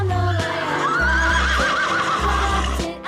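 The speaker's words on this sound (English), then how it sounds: "Horse." A horse neighs loudly and close, a long quavering whinny rising and falling through the middle, with a low musical backing running under it.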